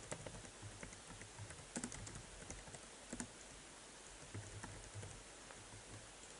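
Quiet, brisk typing on a computer keyboard, close by, with irregular bursts of key clicks over a soft background hiss and no talking.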